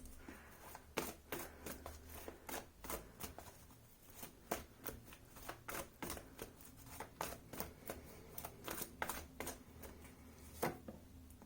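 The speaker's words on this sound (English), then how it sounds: "Then I get some angel oracle cards." Angel oracle cards are handled and shuffled in quick, crisp riffles and flicks, a string of sharp papery snaps repeating irregularly throughout, quiet and close with no talking.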